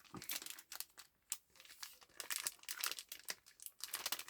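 A plastic file folder bag holding a comic crinkles and crackles as it is handled, irregular close bursts of rustling, quiet overall; no talking.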